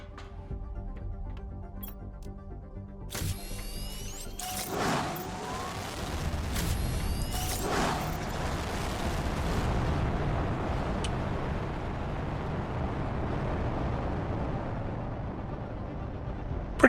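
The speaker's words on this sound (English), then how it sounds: "I do want to launch 2 insect spreading rockets." Two insect-spreading rockets launching in the survival game Planet Crafter: sharp bursts give way to a long, loud roaring rumble that fills the scene, with no voices.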